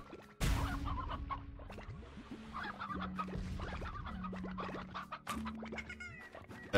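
Chickens in the video game Slime Rancher, a busy flock of clucks and short squawks close by, with scratchy rustles and bursts throughout and no voices.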